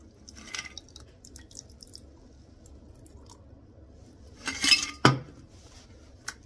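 Shaken gin fizz cocktail poured from a shaker into a glass held in one hand: quiet clinks and trickles, ending in a brief louder splash and a sharp clink of ice and metal.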